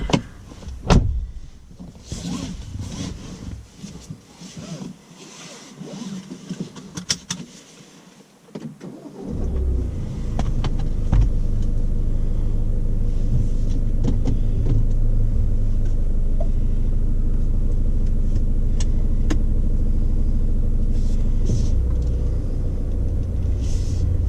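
Ford Kuga starting up and pulling away: a few seconds of cabin clicks and rustles, then the engine catches and settles into a steady, loud road and engine rumble inside the car for the rest of the drive.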